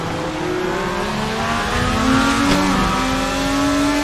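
A GTE Corvette race car's engine roars in a racing video game, set at Portland, with rising and falling revs as it overtakes another car. The engine is loud and continuous, with no talking.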